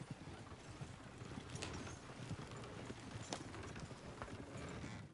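Horse hooves clip-clop steadily in Red Dead Redemption 2, a continuous rhythmic trot at moderate distance with brief louder hits over faint ambient background.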